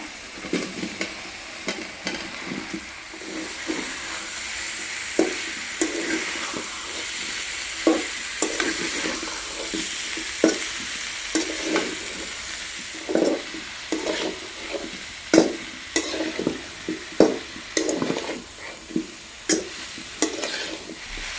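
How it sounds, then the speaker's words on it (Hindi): Cauliflower and potatoes sizzle and crackle in a hot pan, with a bright hiss throughout and repeated sharp stirring scrapes in an irregular rhythm. "एबे भजा कोबी आलू पकेबा।"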